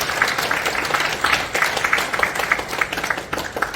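An audience claps at a Christian prayer breakfast in a meeting room of the National Assembly members' office building. It sounds like a dense, even wash of hand claps from a modest crowd, sustained throughout.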